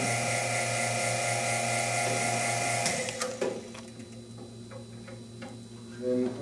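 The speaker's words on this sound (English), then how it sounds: "one of the techniques of helping to remove the mask from the mold is to use the air hose" An air hose hisses loudly and steadily as it pushes a silicone mask off its mold, then cuts out, leaving quieter handling noises and small knocks.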